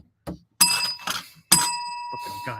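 A bicycle-style bell rings twice with bright metallic dings that linger and fade, mixed with some thumps and brief handling noises.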